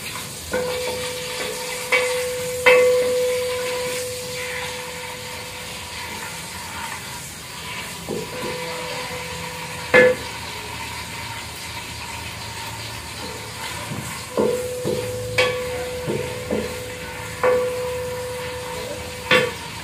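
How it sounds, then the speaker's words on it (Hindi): Chopped onions sizzle in hot oil in a pan, a steady soft frying hiss broken by scattered clicks and scrapes of a stirring spoon against the metal, with no voices over it. "फ्रेंड्स ऑयल जो है हमारा गर्म हो चुका है, अब हमने इसमें ऐड करने हैं प्याज।"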